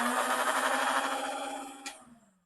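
Battery-powered Adventure Force Rogue foam blaster, a cheap Stryfe-style design running on four AA batteries, spins its flywheel motors into a steady, close whine that holds and then winds down, heard alone.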